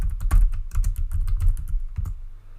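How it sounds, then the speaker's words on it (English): Rapid keystrokes on a computer keyboard while entering search keywords such as running shoes, a dense run of close, crisp clicks that thins out toward the end, with no voices. "first we're typing in there running shoes"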